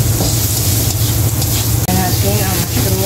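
Onion and garlic sizzling in oil in a frying pan, a loud, steady, close hiss with faint stirring scrapes mixed in.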